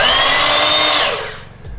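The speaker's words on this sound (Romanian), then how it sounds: "practic este o mașină de găurit care dă gaură la o anumită adâncime" A battery-powered drill with a depth stop whirs loudly at high speed, then winds down and stops, heard close up with no talking.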